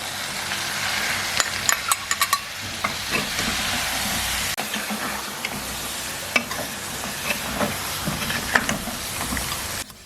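Mutton simmering in a pan with curd, cumin and coriander powder: a steady close sizzle and hiss of frying, broken by sharp scraping clicks of a spoon stirring, with no talk.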